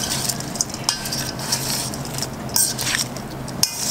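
Vegan veggie jumble being tossed with sauce, wet stirring and squishing mixed with scattered clinks of a utensil against a bowl, close and fairly loud with no talking.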